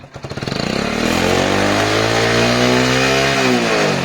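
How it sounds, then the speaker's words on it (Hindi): A 2006 Hero Honda Splendor Plus motorcycle engine starts with a few quick pulses, then settles into a steady, loud, smooth idle close by. "इंजन का आवाज इसका एकदम सही है"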